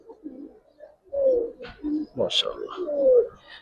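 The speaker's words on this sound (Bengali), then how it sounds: "এ দেখেন কবুতর গুলা ভাই" Pigeons coo close by in a loft with repeated low, throaty, rolling calls overlapping one another, while someone speaks among them.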